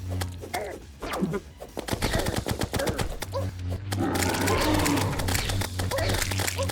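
Rapid bursts of shotgun fire from a Terraria expert-mode session crack out in dense, rhythmic volleys, loud and close, with a steady game hum and a voice talking over parts of it.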